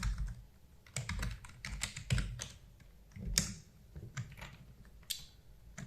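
Typing on a computer keyboard while entering text in Adobe XD, with irregular bursts of close, crisp key clicks and occasional louder strokes and no talk.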